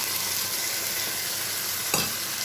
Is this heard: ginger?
yes